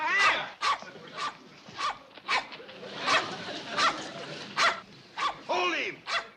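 A dog barks repeatedly at a buffalo in a rural sitcom chase scene, giving about a dozen sharp, loud barks in an uneven rhythm, close by.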